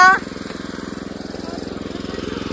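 A tractor engine running steadily at idle on a farm at the start of ploughing season, a loud, even throbbing chug that continues throughout with a brief higher sound at the very start.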